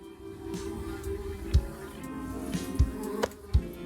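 Wasps buzzing around a nest in the point-and-click game Randal's Monday, a continuous droning hum with a few soft thumps in the background.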